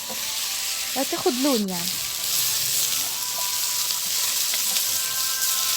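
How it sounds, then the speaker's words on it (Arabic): Meat and onions frying in a pot for okra with meat, a steady broadband sizzle running throughout, with a brief voice speaking near the start. "بنحط اللحمه بتاعتنا مع البصل ونقلبها ونسيبها تستوي شويه"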